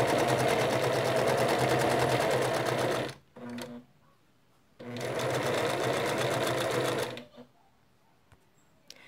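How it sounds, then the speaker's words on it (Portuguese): Sewing machine stitching the side seams of a skirt, a steady fast mechanical whirr running for about three seconds, a brief pause, then another long run before stopping, close and clear. "Agora a gente costura todas as laterais."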